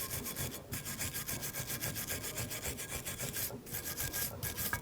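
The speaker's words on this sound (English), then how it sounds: "now we're going to take a wire brush and clean the surface here" A wire brush is scrubbed back and forth over the rusty brake bracket of a 2007-2017 Jeep Patriot, making quick, rhythmic raspy strokes up close with a few short pauses and no talking.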